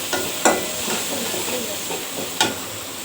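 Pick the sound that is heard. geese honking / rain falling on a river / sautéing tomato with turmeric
sautéing tomato with turmeric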